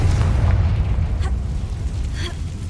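A Confringo blasting spell explodes in the Hogwarts Legacy video game, a loud sustained rumbling boom that dominates the mix.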